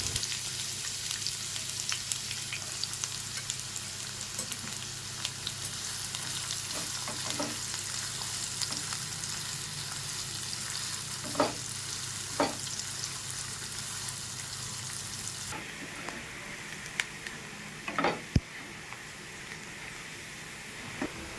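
Chopped onion frying in soybean oil in a wok, a continuous close sizzle with occasional stirring scrapes and brief knocks against the pan.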